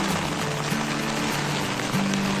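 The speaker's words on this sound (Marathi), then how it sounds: "आणि पाऊस बघा" Steady, dense monsoon rain in late May hisses evenly across the whole stretch, with a low droning hum running beneath it.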